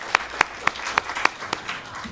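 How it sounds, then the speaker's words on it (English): Sparse, evenly spaced claps ring out about six times from a small audience greeting panel members at a UN climate conference session, sharp and fairly close with no voices over them. "Just a round of applause so that we get started on a good note."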